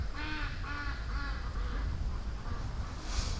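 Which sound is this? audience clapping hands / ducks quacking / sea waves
ducks quacking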